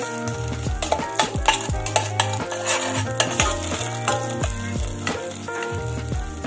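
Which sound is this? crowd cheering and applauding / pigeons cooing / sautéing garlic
sautéing garlic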